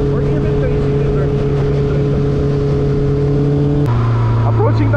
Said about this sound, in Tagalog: hindi po natin makukuha yung ganito klase ng tunog ng big bike kung ang ating 650cc na motor ay 2-cylinder or even 3-cylinder